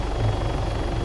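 A helicopter in Arma 3 gives a loud, steady rotor chop with deep thumping blades and engine drone that fills the whole moment.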